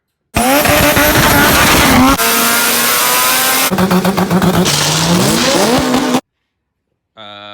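A drag car engine roars loudly up close, revving and changing pitch in several bursts before cutting out, then briefly firing again.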